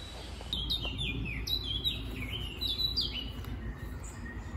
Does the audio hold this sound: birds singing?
yes